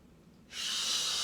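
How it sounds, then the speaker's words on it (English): Audible breath drawn in as the body lowers into a yoga squat, a broad airy hiss starting midway and holding steady, close and fairly soft, with no talking. "and then inhale down."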